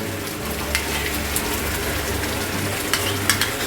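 Whisked sour yogurt stirred into a frying egg curry, a soft, steady sizzle with occasional light clicks of a spoon against the pan, close and without talk.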